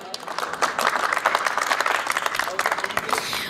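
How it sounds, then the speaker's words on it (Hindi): An audience at a Hindi comedy poetry gathering claps in a dense, thunderous burst of applause, sustained and fairly loud across the whole stretch. "मेरे सम्मान में आपने जो घनघोर तालियां बजाई हैं"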